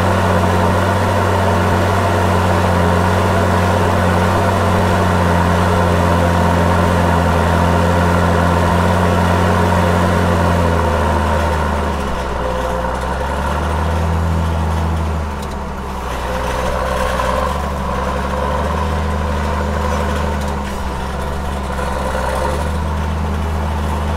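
A John Deere 6810 tractor engine working under load while ploughing, a loud steady low diesel drone with a shift in pitch midway, heard up close with no talk.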